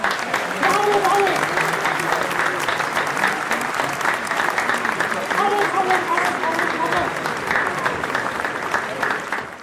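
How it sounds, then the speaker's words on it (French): An audience applauds an artist with steady, dense clapping that holds for several seconds, while a few voices call out over the clapping. "Je pense qu'on peut l'applaudir, bien évidemment."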